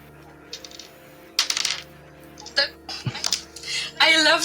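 Tiny dice rattle and click across a tabletop during a tabletop role-playing game session, a few short bright bursts between nearby voices talking.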